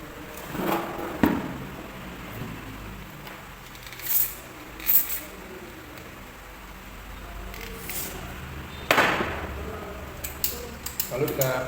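Contact cleaner sprays from an aerosol can into the innards of a dead Toshiba CRT television, with a few short hissing bursts and clicks spread across a quiet room.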